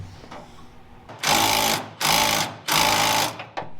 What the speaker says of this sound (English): I'll tighten the pin bolt up.